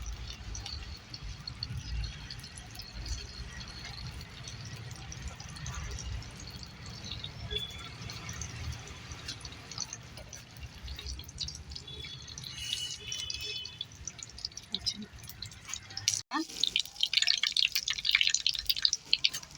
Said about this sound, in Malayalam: ഞാൻ ഇതിൽ വെളിച്ചെണ്ണ ഒഴിക്കുന്നുണ്ട്.